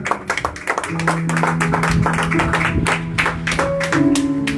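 Congregation applause at a church service: dense clapping and scattered hand taps run steadily throughout, with sustained keyboard or organ tones underneath and a few voices mixed in.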